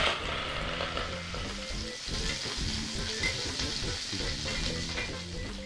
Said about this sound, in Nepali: यो आगोमा एकछिन भुट्नुपर्छ सबै चिज, कुखुराको पानी सकिसकोस्